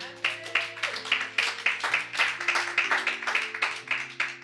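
A church congregation claps in a fast, even rhythm, roughly three claps a second, loud and close, with music tones held underneath.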